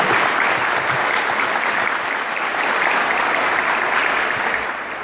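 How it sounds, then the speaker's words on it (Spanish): A crowd applauds the club leaders at the opening ceremony of a tournament, a dense, steady burst of clapping that fades slightly at the end. "Yo quiero también que se les rinda un gran aplauso a los dirigentes de cada club"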